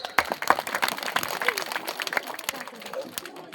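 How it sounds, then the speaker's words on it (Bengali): Audience applause at a school quiz event for the annual milad of Kalachhara higher secondary school: a burst of scattered hand claps that fades over a few seconds, with voices murmuring underneath. "একটা হাততালি হয়ে যাক"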